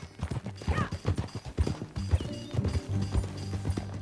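Horse hooves clip-clopping in a video game Western setting, a quick steady trot of hoofbeats mixed with creaking tack and a busy ambient bed, moderately close and continuous throughout.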